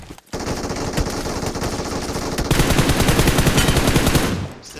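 Rapid automatic gunfire from a PUBG Mobile match rattles out in long bursts, loud and close, growing denser partway through before cutting off, with no talk.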